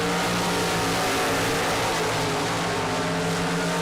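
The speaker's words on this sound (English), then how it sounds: "Dragster runs" A dragster at a Super Pro bracket drag race roars hard down the strip, a loud, sustained, dense engine blast filling the whole clip without letup.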